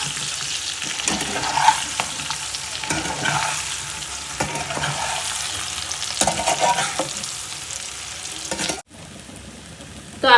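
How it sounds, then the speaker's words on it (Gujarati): Gujarati patra pieces are stirred through sizzling tempering in a pan, with steady close frying crackle and repeated scraping strokes, a brief silence near the end, then the sizzle returns. "અને હવે મિક્સ કરી લઈએ પ્રોપર આપણે."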